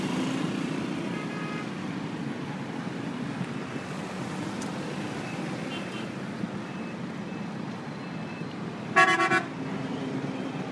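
Busy road traffic near the Minar-e-Pakistan bridge, where one side of the road is closed, makes a steady dense rumble throughout, and a car horn blares in a short burst of toots near the end.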